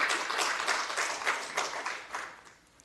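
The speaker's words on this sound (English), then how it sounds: "After that round of applause for me." A brief round of clapping at a regular city council meeting, lively and irregular with distinct hand claps, gradually thinning and fading out near the end.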